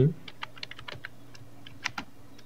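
Someone types Bangla text into Microsoft Word on a computer keyboard, producing sparse, irregular key clicks that are close and fairly soft, over a quiet room.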